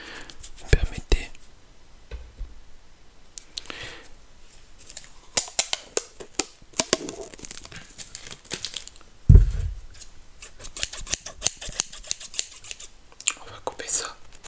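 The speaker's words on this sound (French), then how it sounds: "On va couper ça." Scissors snip close to the microphone in a quiet late-night ASMR setting, a scattered series of crisp cuts and rustles with one louder thump partway through, soft whispery speech between them.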